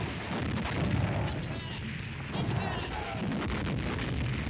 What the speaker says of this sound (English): No, we had an airstrike.